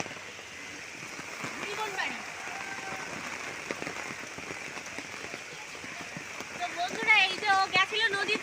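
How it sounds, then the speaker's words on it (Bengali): Heavy rain falling in a village, a continuous patter on surfaces with scattered drips, while people talk over it and a few bird-like chirps rise near the end. "দেখুন বৃষ্টিটাও হচ্ছে কিন্তু হ্যাঁ, খুবই জোরে"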